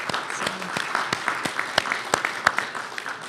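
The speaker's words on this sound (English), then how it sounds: "how about if you guys give a round of applause to all of your supporters?" Scattered applause from a graduation audience, a modest crowd clapping in an irregular patter with a few sharper claps standing out, moderately distant and fairly light, with no one speaking over it.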